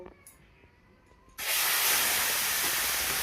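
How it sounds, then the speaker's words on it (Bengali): Fish oil hits a hot pan in a village kitchen with a pinch of salt, bursting into a loud, steady steam-like hiss after a quiet start with faint background sounds. "হালকা একটু নুন দিয়ে আমি মাছের তেলটাকে ভেজে নেব"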